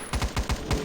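Rapid gunfire in a shooting video game, five quick punchy shots in a tight burst, close and fairly loud.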